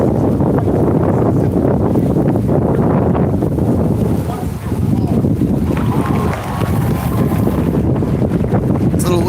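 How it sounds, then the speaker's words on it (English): Loud, continuous wind buffeting a microphone, a dense low roar that barely dips for a moment midway, with no clear speech. "It's a little windy out here today"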